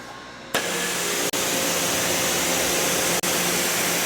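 Steady, loud broadband hiss of a pressure washer spraying water to rinse ceramic foaming wash off a car, continuous and close, with two brief dropouts where the trigger is released.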